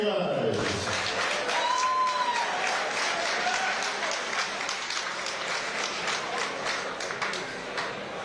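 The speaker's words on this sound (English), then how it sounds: "Big round of applause for these two guys." Boxing crowd applauding the fighters in the ring after the bout, a dense sustained wash of clapping filling the whole span, with a voice talking over the opening moments.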